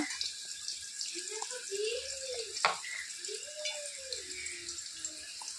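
Potatoes frying in hot oil while chicken kalia is being prepared, giving a steady bright sizzle throughout, with faint tonal sounds and quiet voice-like murmurs beneath it.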